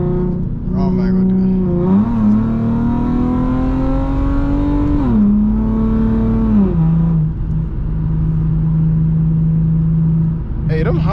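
An Infiniti G37X engine revs hard while driving, its pitch climbing and falling through the gears in steady pulls from start to finish. Voices speak over the loud, continuous engine note.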